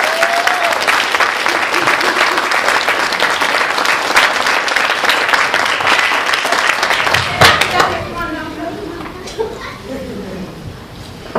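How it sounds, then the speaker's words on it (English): Wedding guests break into loud, sustained applause for the bride and groom, dense clapping and cheering filling the room before tapering off into scattered claps and murmuring voices. "Can we give the bride and the groom a round of applause?"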